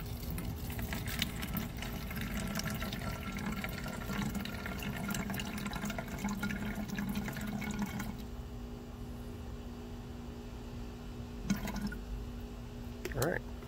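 Water pours in a steady, continuous stream into a container while measuring out brewing water for a homebrew pumpkin empanada ale. The pour runs for about eight seconds and then stops, leaving quiet room tone and a couple of faint clinks.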